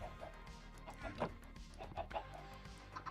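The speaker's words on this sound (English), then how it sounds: "Chickens, can you move?" Minecraft chickens cluck in short, irregular bursts, several soft clucks scattered over a few seconds amid quiet game ambience, fairly close and moderately loud.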